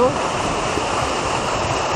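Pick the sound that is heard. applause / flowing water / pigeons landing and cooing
flowing water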